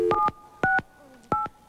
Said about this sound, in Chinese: 现在拨号